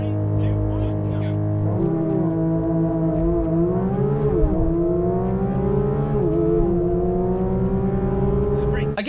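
A Porsche 992 GT3 RS and a GT3 accelerate hard side by side in a drag race, loud engine howls climbing in pitch and dropping briefly at each gear shift.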